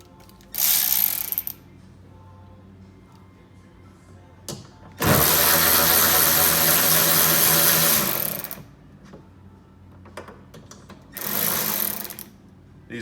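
A 10mm socket ratchet loosens flange nuts on a Lotus Evora window mechanism, three bursts of rapid mechanical whirring, the middle one longest and loudest, separated by quiet gaps with small clicks.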